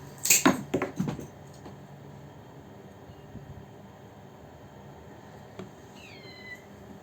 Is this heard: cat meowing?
yes